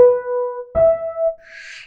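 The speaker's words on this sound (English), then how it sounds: "And I already had a piano patch which sounds like this." A synthesized acoustic piano patch plays two sustained notes, the second one lower, each with a bright attack and a steady ringing tone, followed by a faint high shimmer.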